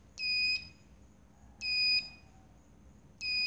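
A multimeter's continuity tester beeps as its probes touch wires while checking a two-door refrigerator's defrost bimetal: three clear, high electronic tones, each about half a second long, repeating roughly every 1.5 seconds, close and alone.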